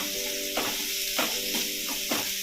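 Crushed ginger and garlic sauté with onion in a hot pan, giving a steady sizzle broken by scraping stir strokes roughly every half second, with no talking.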